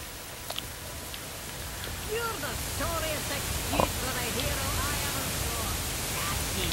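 A waterfall in the video game Fable 2 gives a steady broadband rush of falling water, with faint chirps and a brief tap over it and a voice talking in the background.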